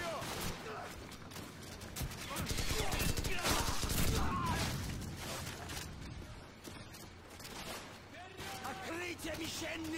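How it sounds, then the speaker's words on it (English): Gunfire erupts in Call of Duty 4 as soldiers search a village, a sustained run of sharp rapid shots and bursts at moderate distance, mixed with game ambience and voices. "What are you guys shooting at, man?"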